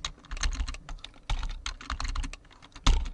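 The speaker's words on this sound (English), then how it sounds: "we also typed the wrong keyboard key" Steady, busy typing on a computer keyboard, a dense run of close key clacks with occasional heavier strikes, filling the moment with no speech over it.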